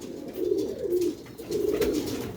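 Pigeons cooing nearby, a few soft throaty rolling coos in quick succession, fairly quiet with no voices over them.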